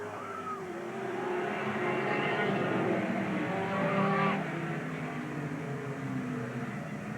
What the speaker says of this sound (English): Got the Camaro right in the groove out of turn number 4